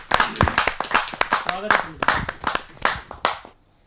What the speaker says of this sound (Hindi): जरा जोरदार तालियों के साथ पंडित नमन जी।